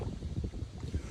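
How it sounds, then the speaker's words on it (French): Wind outdoors by a lake at night, a low rumbling gust buffeting the microphone in uneven pulses, with no voices. "là, il y a du vent tard les fous"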